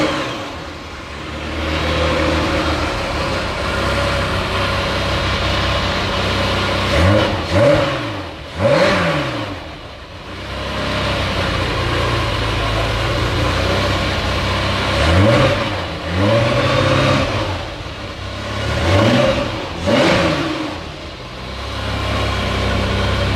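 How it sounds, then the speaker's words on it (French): A car engine, started from cold, revved repeatedly to no more than about 2500 rpm at a car club shop. Several rising and falling revs sit over a steady near idle, with no talk. "Donc là, à froid, Alex. Là, j'accélère pas plus de 2500 tours."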